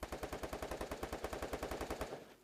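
Rapid automatic gunfire from the Free Fire battle royale game, a steady loud burst of evenly spaced shots for about two seconds before cutting off abruptly, with no talk.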